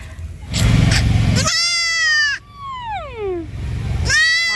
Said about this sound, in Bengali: ছোট্ট ছাগল ছানা